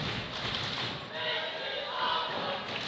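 A wrestling arena crowd roars steadily for a No Limits bout, a broad wash of cheering and shouting at a distance with occasional thuds underneath.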